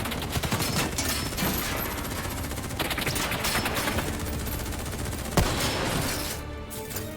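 Sustained gunfire in a Call of Duty Black Ops 3 cutscene, dense bursts of rapid automatic shots and crackling impacts filling the scene continuously, with one sharp louder crack near the end.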